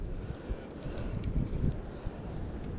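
Wind buffets the microphone on a Kansas lake during a fishing trip, a continuous low, rumbling gust noise up close, with faint voices underneath.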